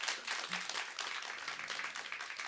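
Audience applause fills a stage talk event on street dance and art at a Korean arts education programme: dense, steady clapping from a crowd, fairly soft and even throughout.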